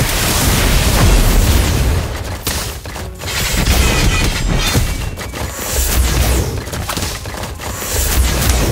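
Explosive spell blasts and bursts in the Harry Potter: Magic Awakened mobile game, a dense, loud barrage of booms and crackling impacts with brief dips between volleys.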